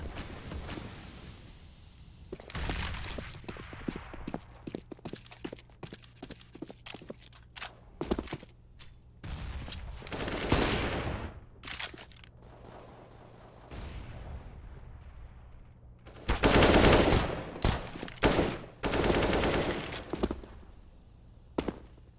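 Gunfire from a Counter-Strike match on the Mirage map, Palace area, at a professional esports tournament: scattered loud bursts and single shots spread across the stretch, with a dense burst near the end and footsteps between, no talk.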